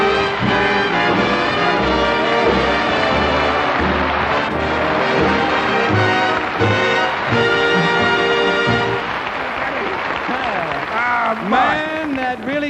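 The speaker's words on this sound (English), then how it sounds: "American jazz today has found its place in the music of the whole world." American jazz plays as a full band performance, brassy horns and a dense ensemble, with what sounds like a singing voice bending through the last stretch.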